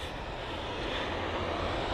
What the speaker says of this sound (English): You've got the British Airways A319 heading over to Rome. Currently at 100 knots.